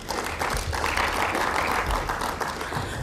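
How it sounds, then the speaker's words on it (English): Conference audience at a food and nutrition security event applauding a speaker, a sustained wash of many hands clapping at moderate volume, tapering a little near the end. "we need to give him an applause again"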